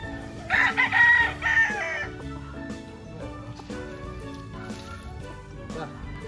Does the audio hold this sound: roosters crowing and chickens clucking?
yes